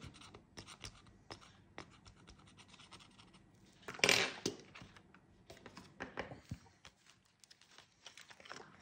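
Scratch-off lottery ticket being scratched by hand, short dry rasping strokes in bursts with one louder, sustained scrape in the middle, close and quiet with small handling noises between.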